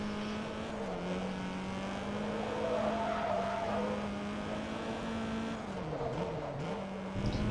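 Racing cars in the Forza Motorsport 2 video game, with a sustained engine drone and a long drawn-out tire squeal that bends in pitch as the car drifts, steady and moderately loud throughout, with no voices.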